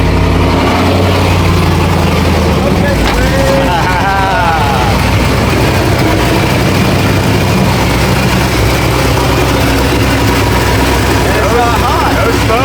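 Car fitted with a flame kit starting up and settling into a loud, rough idle, a heavy low engine drone running throughout while people talk over it.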